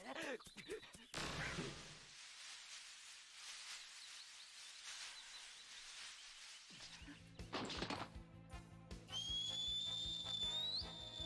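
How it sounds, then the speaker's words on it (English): A high, rising whistle in the anime One Piece sounds near the end, clear over busy background noise and thuds after a quieter stretch. "who I assume is whistling to other angels"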